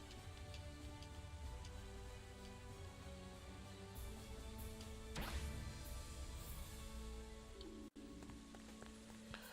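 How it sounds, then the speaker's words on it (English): Cold rain falls steadily in a video game, a dense even patter of drops on surfaces that runs throughout, with a sharp crash-like burst partway through and a brief dropout near the end, and no voices. "So this one is at least a cold rain."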